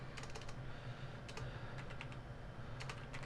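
Light, quick keystrokes on a computer keyboard come in several short bursts, faint and close, over a steady low background hum.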